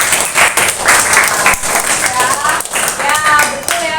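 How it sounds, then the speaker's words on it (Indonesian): A classroom of students breaks into sustained applause, dense clapping that holds steady across the whole stretch with a few voices mixed in underneath. "terima kasih, kasih tepuk tangan ya"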